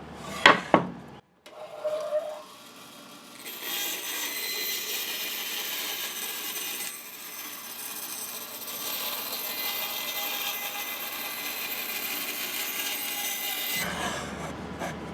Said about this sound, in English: let's cut this out with a bandsaw and see how far it went down